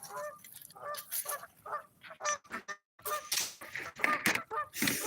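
Canada geese honk repeatedly in an irregular chorus of loud, close calls, with short gaps between bursts and no speech.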